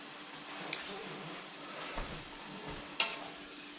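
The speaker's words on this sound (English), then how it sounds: "Give the bacon and onions a stir" Bacon and onions frying softly in a pan while being stirred, a steady low sizzle with a few light scrapes and a sharp clink of the utensil near the end.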